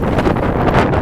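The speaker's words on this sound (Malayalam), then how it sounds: "കാറ്റ് വെച്ചാൽ നമ്മൾ പറന്നു പോകുമെന്ന് വിചാരിക്കും, അതുപോലത്തെ ഒരു കാറ്റാണ്." Strong wind buffeting the microphone outdoors in Fahaheel, Kuwait, loud continuous low rumbling gusts with uneven surges.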